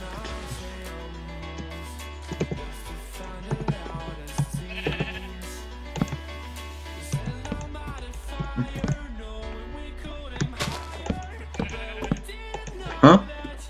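Sheep in the Minecraft video game bleat several times amid game sounds and clicks, with a person talking over them.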